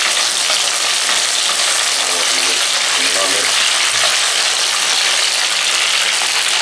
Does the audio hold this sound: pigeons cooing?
no